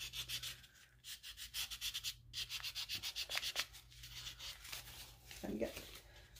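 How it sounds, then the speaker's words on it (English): Newspaper rubs and scrubs against painted furniture to distress the paint, giving rapid rhythmic scratchy strokes up close, with a few pauses and softer thumps between them. "Your distressing is where you hit it with the newspaper."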